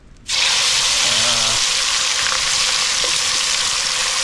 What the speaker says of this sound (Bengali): তো এখন যাচ্ছে মাছ ভাজা।